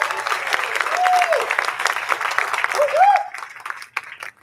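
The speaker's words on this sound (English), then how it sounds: "That deserves a round of applause." Audience applause at a college bowling postseason awards show in Las Vegas, honoring the Final Four teams; dense clapping with crowd noise and a few whistles, thinning toward the end as voices continue.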